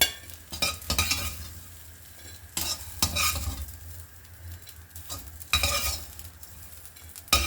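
Taro root roast with curry leaves tossed and stirred in a pan: intermittent scraping and clattering strokes of a spatula over a soft, low frying sizzle, close and fairly quiet, no voices.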